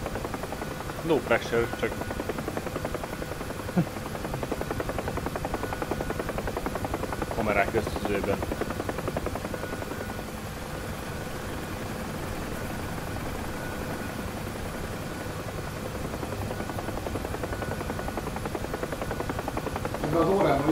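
A helicopter in the flight simulator DCS World holds a steady, loud rotor drone with engine whine throughout, while people chat over it.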